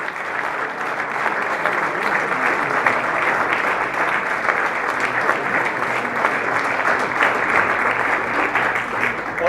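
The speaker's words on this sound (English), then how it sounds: "Now he's receiving the award from the culture minister, and everyone's clapping" An audience claps continuously through the Spiel des Jahres 2019 board game award presentation as the culture minister hands over the prize, a dense, even wash of applause filling the hall.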